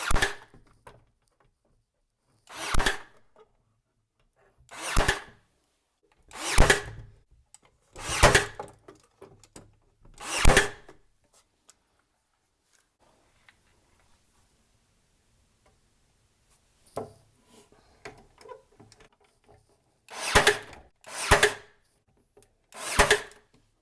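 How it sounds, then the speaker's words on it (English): Nails are hammered into wooden boards for a kitchen island base, several short bursts of sharp knocking spaced apart with a long quiet stretch in the middle, close and fairly loud with no talking. "And go ahead and nail this down."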